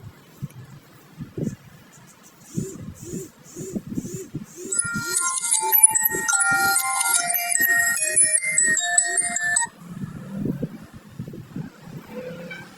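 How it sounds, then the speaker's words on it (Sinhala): A mobile phone ringtone for an incoming call from mother plays as a bright, repeating melodic tune of stepped tones for about five seconds, starting partway in over low rumbling background noise and cutting off abruptly. "අනේ කෝල් එකක් ආව අම්මගෙන් පොඩක් ඉන්නවා"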